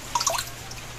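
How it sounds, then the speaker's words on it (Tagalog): Water drips from washed food sitting in a strainer, a quick cluster of bright, close droplets in the first half second, then a single fainter drip against quiet room tone. "Pinapatulo ang tubig eh."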